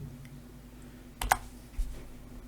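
A computer mouse click and an Enter key press on a keyboard, two or three quick faint taps close by against a low steady hum.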